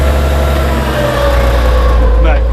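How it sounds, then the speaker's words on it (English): A 1970s tractor engine runs loud and close on a farm, a steady low rumbling idle with a faint higher whine over it, holding even throughout. "here I've got a 1970s model tractor or whatever the hell year it is, and I bet it starts"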